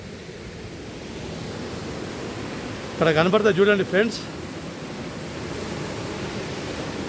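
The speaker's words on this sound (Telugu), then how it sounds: "నీటి శబ్దం వస్తుంది చూడండి" Water flows steadily at the Muktinath temple in Nepal, a constant rushing wash that runs through the whole stretch while someone speaks briefly in the middle.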